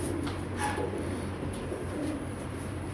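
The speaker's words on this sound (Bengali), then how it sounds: "এ পর্যায়ে দেখতে পাচ্ছেন একটা টার্কিশ টামলার নর কবুতর" Soft cooing of a male Turkish tumbler pigeon, black checker, low and steady against a constant ambient hum, with no voices present.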